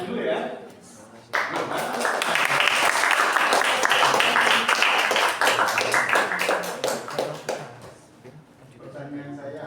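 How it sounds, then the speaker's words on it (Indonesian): Audience applause in a classroom during a student group presentation, a dense burst of many hands clapping that starts abruptly, holds steady for about six seconds, then trails off into murmuring voices. "Tepuk tangan dulu ya."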